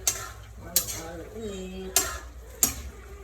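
A metal spoon stirs pochero in a pot, giving four sharp clinks against the pot spaced about a second apart, with a faint voice in between.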